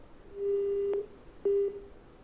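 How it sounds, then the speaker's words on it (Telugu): A telephone line drops during a live TV news call, leaving a steady electronic beep that sounds twice: one long tone, then a shorter one after a pause, clear over faint background hiss. "రైట్, ఫోన్ లైన్ కట్ అయింది."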